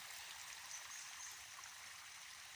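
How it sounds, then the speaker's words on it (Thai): Steady hiss of rainwater runoff flowing in a forest stream after rain, like a small stream running continuously, with no breaks or voices. "ก็จะมีน้ำไหลแบบนี้นะคะ"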